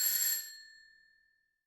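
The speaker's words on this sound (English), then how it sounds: "I've also added a doorbell, which actually works as well" A working doorbell in the home-renovation game House Flipper rings once with a clear, bright chime whose bell tones ring out and fade slowly over about a second, with nothing else heard.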